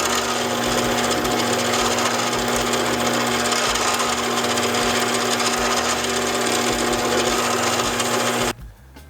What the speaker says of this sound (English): I think I'm gonna put this in the lathe, pull some of this off it in order to make it long enough